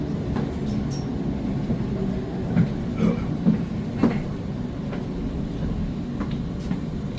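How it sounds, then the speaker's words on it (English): A driverless Sydney Metro train rumbles steadily along the rails with soft rhythmic clicks and clatters, a continuous low drone heard from inside the front carriage. "I'll be travelling on the front of the metro train, which is driverless"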